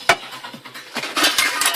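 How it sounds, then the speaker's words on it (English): A stainless steel water boiling mug for backpacking gets handled, giving a few light metallic clinks and scrapes, close and brief, with soft rustling between them. "is my water boiling mug, stainless steel"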